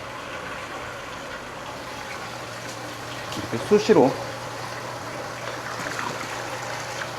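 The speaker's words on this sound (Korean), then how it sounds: "지금 물 흐르는 거 보이시죠?" Water runs steadily into a round tank for live fish during a water change, a continuous low wash with a brief louder splash midway, while a person talks over it.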